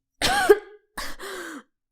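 Two bursts of coughing a short pause apart, close and fairly loud, the first harsh and sudden, the second a longer rasping hack.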